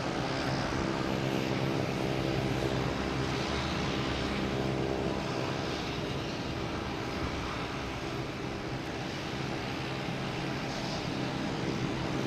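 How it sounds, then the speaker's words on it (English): Iberia Airbus A321neo jet landing at Boston Logan Airport makes a continuous, loud engine roar with a broad rumble that holds steady for the whole stretch, with no talk over it. "Oh, Iberia, coming in from Madrid."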